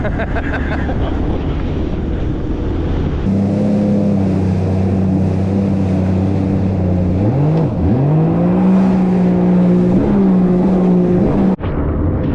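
A loud, close engine drones with heavy wind rush, its pitch dipping and climbing as it revs over water.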